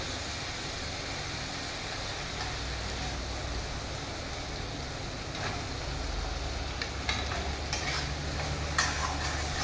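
Spice paste for a green banana kofta curry is stirred and fried in oil, giving a steady close sizzle with scraping stirs and a few sharp ticks toward the end, no talking.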